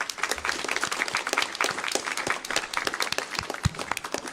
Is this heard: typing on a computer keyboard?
no